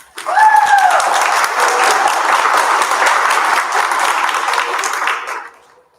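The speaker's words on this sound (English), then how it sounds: "let's give Holly a round of applause for her wonderful contributions" A crowd at an annual sobriety celebration breaks into loud, dense applause that holds steady for several seconds before tapering off, with a brief voice or whistle near the start.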